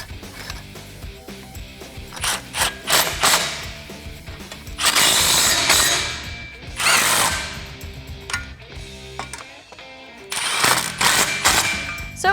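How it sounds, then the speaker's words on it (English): A power tool whirs in repeated bursts, tightening factory exhaust clamps on adapters under a 2015-2017 Mustang GT Fastback, with ratcheting clicks and metallic clatter up close. "We'll slide our adapters into place and then we'll tighten these clamps down."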